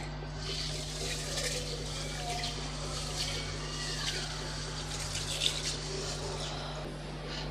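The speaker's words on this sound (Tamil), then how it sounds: "இதை ஒரு 2-3 தடவை நல்லா கழுவிட்டு வந்துடலாம்." Green gram (mung beans) being washed in water, a low continuous swish and trickle close by that stays steady and fairly quiet throughout.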